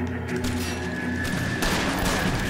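Gunfire rattles in the LA Noire detective game, with steady shots over dense background noise that swell louder for the last second.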